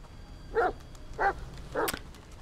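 A dog barks three times in the video game The Medium, with evenly spaced, moderately loud barks about half a second apart over a quiet ambient background.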